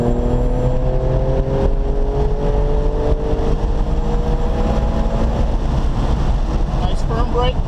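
A Porsche 997 Carrera 2S accelerates hard on a race track, its engine note climbing steadily and loudly in pitch throughout, with a voice speaking briefly over it.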